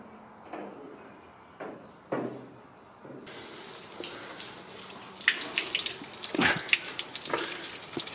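Flushed-out water drains from a container that once held AdBlue, during a Ford Fairlane restoration. It gives a steady splashing trickle with scattered clunks and knocks early on, then grows louder and busier toward the end.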